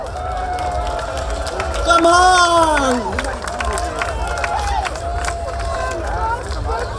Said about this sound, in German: bitte einen heftigen Applaus für Kirsten Kappa-Gonthardt von Bündnis 90 Die Grünen